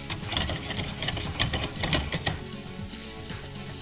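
Diced onion fries in a hot pan with a loud, dense sizzle and crackle, mixed with quick rattling clicks of the utensil.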